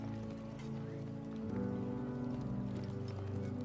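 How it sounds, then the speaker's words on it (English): Hooves clop rhythmically at a walking pace on rough ground, fairly faint beneath a steady background hum. "your horse's hooves clatter rhythmically on the uneven ground"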